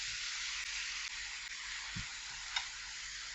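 Spinach and eggs cooking down in a pan, a faint, steady broadband sizzle with a single soft tap partway through, no voices.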